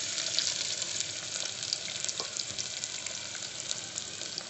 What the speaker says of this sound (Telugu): మసాలాలు వేగినాయండి వేగిన తర్వాత ఆనియన్స్ కూడా వేసుకుంటున్నాను